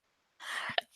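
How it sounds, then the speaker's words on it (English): A single sneeze from a woman indoors after a brief silence, a short breathy burst ending in a sharp, slightly voiced release, close and fairly quiet. "I love that my sneezes waited right until I started recording to go hi."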